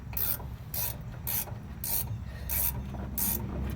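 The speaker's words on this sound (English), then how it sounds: "So we'll get this nut tightened down on here." A ratchet wrench tightens a nut while caging a truck brake chamber, producing regular bursts of rapid clicking strokes up close over a steady low background hum.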